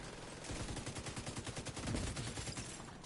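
A turret machine gun in The Division 2 fires a fast, unbroken stream of rounds without pausing to reload, loud and steady the whole time, with a faint voice now and then.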